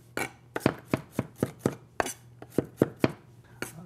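Knife chopping celery on a cutting board, a quick run of about a dozen sharp, close knocks in uneven rhythm with a faint steady hum underneath.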